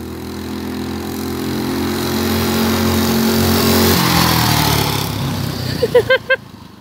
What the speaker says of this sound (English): Yeah, this bike is fast and loud.